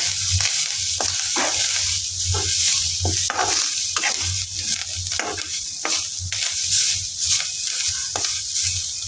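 Grated coconut and onion roast lightly in a pan, stirred in a steady rhythm of close scraping strokes over a soft sizzle.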